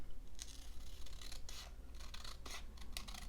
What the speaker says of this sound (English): I think I'm just going to use the scissors